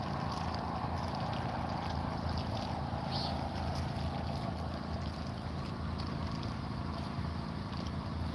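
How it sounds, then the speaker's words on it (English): A boat passing on open water while fishing, heard as a steady broad wash of engine and water noise with some wind buffeting the microphone, continuous and fairly even throughout. "That boat brought in that little bit of movement in that water."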